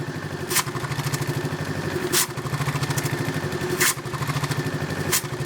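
A Honda Forza scooter with a broken air filter cover idles with a steady, fast low putter, while a few sharp clattering bursts punctuate it about every second and a half.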